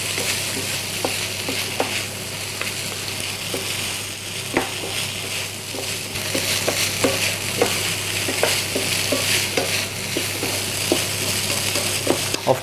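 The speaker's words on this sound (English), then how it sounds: "Of course, you can just stir the Spätzle, but if you like to put on a show, of course you can also toss them like this." Spätzle and onions frying in a pan while being tossed, a constant sizzle broken by repeated sharp clacks and scrapes of the pan at irregular intervals, close up with no voices.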